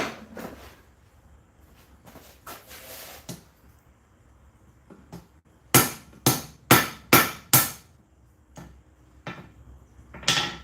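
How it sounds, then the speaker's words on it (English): A forging hammer drops into a bucket with a clattering metallic impact, followed by a quick burst of several sharp rattling knocks and a few scattered clunks in an otherwise quiet workshop. "Dropped the hammer, landed it in a bucket."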